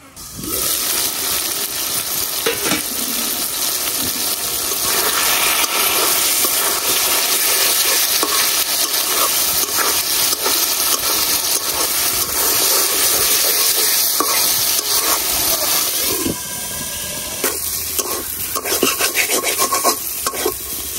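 Pangas fish frying and being stirred in oil in a pan, with a loud, continuous sizzle and scraping that runs throughout, close and without talk.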